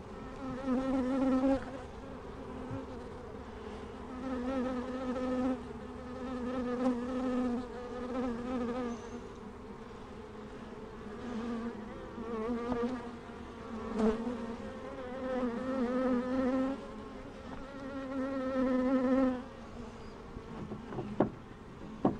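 Honeybees buzz around an open hive during a springtime inspection, a dense, continuous drone of many insects close by that swells and eases, with occasional small knocks from handling the frames.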